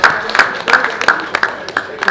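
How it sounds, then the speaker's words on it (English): An audience applauds Honorable Salman Idris at an annual lecture and award presentation, a close, bright burst of individual hand claps in an uneven rhythm throughout, with no one speaking over it. "Please a round of applause for him."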